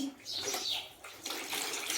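Tap water running and splashing steadily while hands are washed at home, a close continuous gushing sound with faint voices in the background.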